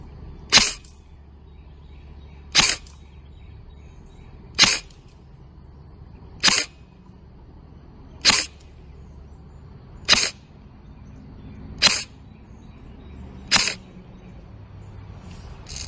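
A Krytac Trident Mk2 CRB airsoft rifle on an 11.1 V LiPo fires eight semi-auto shots of 0.20 g BBs, sharp close cracks spaced evenly about two seconds apart against a quiet background.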